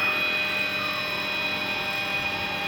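An MD500 helicopter lifting off the pad, its turbine whine and rotor noise forming a loud, steady, close drone with a high tonal hum on top and no talk.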